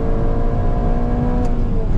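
A tuned Alfa Romeo Giulia engine at full throttle during an acceleration test, a loud continuous strained drone with steadily rising pitch, close and sustained, with a voice briefly speaking over it.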